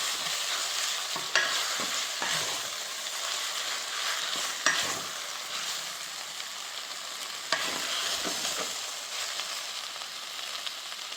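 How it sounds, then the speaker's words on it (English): Meat dredged in flour sizzles and browns in a hot pot for an Alaskan spicy stew, a steady close frying hiss broken by a few sharp stirring scrapes, with no talk. "we'll just let this brown up in here"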